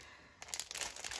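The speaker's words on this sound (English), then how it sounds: "I'm going to use some avocado dyed paper that was sent to me by Catherine from Creative Catherine." Avocado-dyed paper being handled, with a short burst of close, soft crinkling and rustling after a quiet moment.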